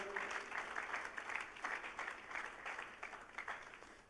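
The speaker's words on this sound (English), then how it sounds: "Let us clap to the Lord." Congregation applause during a Pentecostal church sermon, faint but steady rhythmic clapping from many hands, heard alone at a distance.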